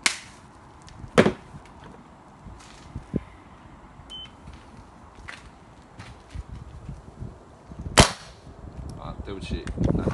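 A DYE paintball marker fires single shots through a speed test, each a sharp, loud crack with short gaps between, over quiet room noise.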